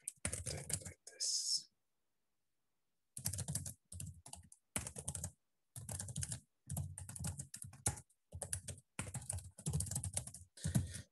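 Close computer keyboard typing in bursts of rapid clicks separated by short pauses, the keystrokes crisp and fairly soft against a quiet room.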